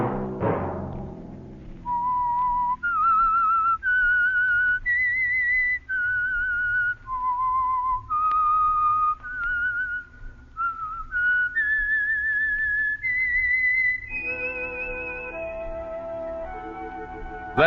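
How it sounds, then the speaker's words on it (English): A whistled melody serving as the signature theme of the radio mystery show The Whistler, a clear, sustained tune of held notes rising and falling in steady phrases, heard alone and prominent. "Let that whistle be your signal for the Whistler, each Sunday night at this same time."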